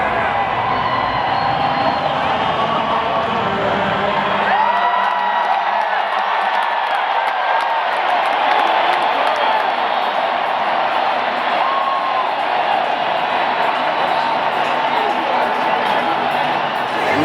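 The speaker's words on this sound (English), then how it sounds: "Lots of booing for Jose Bautista" A large baseball crowd at Globe Life Park fills the air with loud, sustained booing and jeering aimed at Jose Bautista, a dense continuous roar that never lets up.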